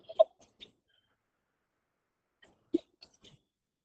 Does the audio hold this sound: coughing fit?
yes